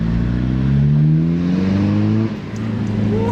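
A Volkswagen Vento car engine revs hard up close, its pitch climbing steadily for about two seconds. It then drops back abruptly to a lower, rougher idle growl, loud and with no voices over it.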